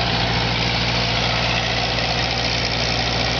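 A smoky engine idles steadily after a touch of throttle, most of the smoke coming from its rear cylinder; a close, loud, even running drone with no talk.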